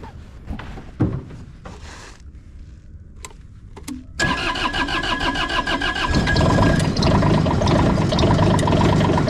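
A mini track loader's engine cranks with a few short turnovers and clicks, catches around the midpoint, then settles into a steady, loud, close diesel idle that rises slightly as it runs.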